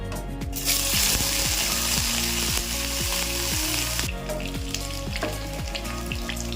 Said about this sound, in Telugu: వంకాయలు మనం బాగా ఫ్రై చేసుకోవాలి